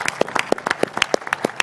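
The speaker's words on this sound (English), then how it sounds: "a big round of applause for His Excellency for everything he's done for boxing so far" A press conference audience for the Beterbiev vs Bivol boxing event breaks into loud, dense applause, with quick overlapping claps close by.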